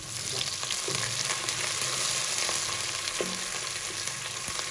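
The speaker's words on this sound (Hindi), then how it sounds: "1 मिनट तक हम हरी मिर्चें और अदरक लहसुन फ्राई करेंगे" A steady, close hiss of green chilies, ginger and garlic frying in hot oil, with faint crackles and an occasional soft stir, and no talking.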